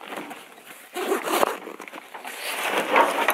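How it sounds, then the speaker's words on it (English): Zippers on a Vanquest IBEX 35 get-home bag are pulled open, giving rough rasping zips in a few close, uneven strokes. "so that you can pull these zippers open"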